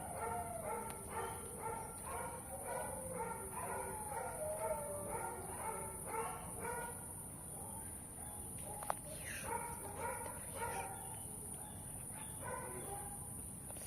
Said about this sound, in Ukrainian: Переполох собачий.